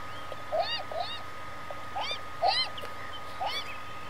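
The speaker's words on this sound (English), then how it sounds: "the seagulls flocked around the bread, gobbling it greedily." Seagulls crowd around bread in the video game Beyond Eyes, giving out several short, high, repeated calls in spaced bursts over a low steady ambient background, with no talking.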